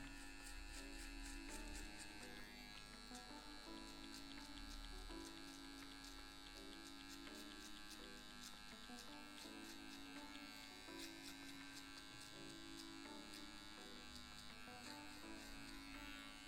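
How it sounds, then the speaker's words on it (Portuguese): A finishing trimmer buzzes steadily while cutting hair for a spaced mid fade, a continuous close electric drone with a faint hum underneath that runs unbroken, with no talk. "Com a maquininha de acabamento você já pode vir diretão."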